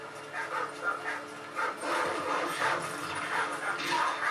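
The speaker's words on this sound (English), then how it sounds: "there's dogs" In a first-person shooter video game, dogs whimper and yip in a series of thin, repeated cries amid game noise, fairly close and steady.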